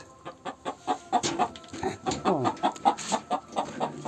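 Chickens clucking steadily inside a village chicken coop, a close run of repeated rhythmic clucks and short calls from several hens with no talk.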